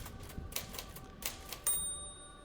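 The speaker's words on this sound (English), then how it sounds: "Someone typing on the typewriter?" Typewriter keys clacking in the video game The Séance of Blake Manor: a few sharp, spaced strikes, then a bright ringing tone that slowly fades.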